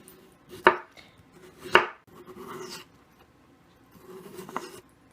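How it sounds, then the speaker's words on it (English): Potatoes being sliced thinly with a knife on a board for stovetop skillet fried potatoes, giving a few separate sharp cutting thunks with quiet gaps between them, close by and fairly soft, with no talking. "I'm going to slice them thinly."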